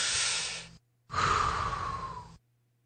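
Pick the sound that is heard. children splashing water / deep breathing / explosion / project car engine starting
deep breathing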